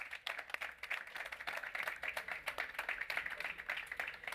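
Scattered clapping from a small audience at an ocean sustainability talk, light and fairly steady throughout with no voices over it.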